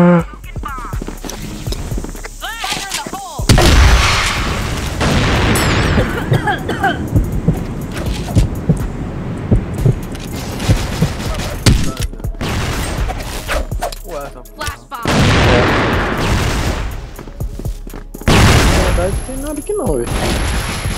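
Rapid bursts of gunfire crackle repeatedly amid busy game effects, with voices talking over the action at times.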